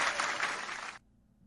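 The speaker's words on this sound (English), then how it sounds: "Round of applause. Round of applause." A short, quiet burst of applause greets a guest on an NBA draft podcast. It lasts about a second before cutting off abruptly into near silence.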